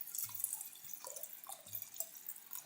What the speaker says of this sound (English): I do hate that you can hear the glug.